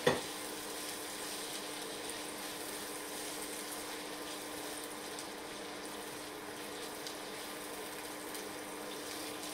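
Red bell pepper frying in a pan while being stirred, giving a steady, moderately quiet sizzle with faint scraping throughout, no voices.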